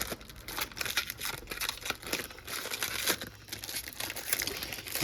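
Plastic wrap crinkles and tears as an ATOTO car stereo box is unwrapped, with steady close rustling and sharp crackles across the whole stretch, no voices.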